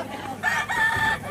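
A rooster crows once, close and loud, with a rising and sustained call over a busy crowd background at a poultry giveaway.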